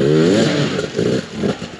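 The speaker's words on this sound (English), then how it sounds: "Look at these 300 two strokes struggling." 300cc two-stroke enduro motorcycles revving and bogging on difficult ground, a close ragged engine note that rises, drops out and surges again in uneven bursts with some clatter.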